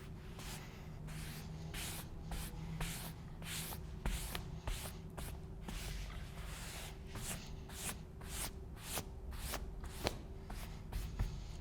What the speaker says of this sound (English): so I'm going to add a little more spray.